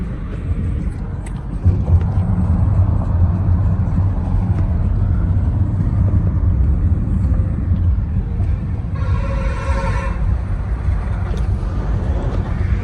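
Steady low rumble of a car driving through the Lonavala ghat on a hill road, continuous engine and road noise throughout with a brief hissy burst partway through.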